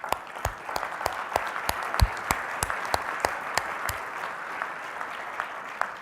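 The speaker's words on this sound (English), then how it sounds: "So I first want to give everybody a round of applause for that." An audience at a plenary conference session gives a round of applause, heard as sparse, distinct hand claps from a modest crowd, steady for about six seconds and fairly soft.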